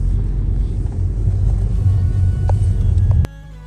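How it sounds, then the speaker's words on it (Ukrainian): A car keeps driving after a railway crossing, heard from inside as a steady low engine and road rumble with faint ticks, cutting off abruptly near the end. "проїхали ЖД переїзд і їдемо далі"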